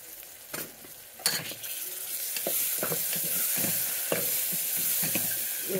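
Ginger garlic paste sizzles steadily in a hot pan while a utensil stirs it, with light scraping clinks against the metal, fairly quiet and close.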